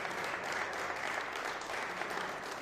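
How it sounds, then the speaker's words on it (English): An audience at a lacrosse press conference gives sustained applause, a dense, steady clapping that holds at a constant level throughout. "Give him a round of applause"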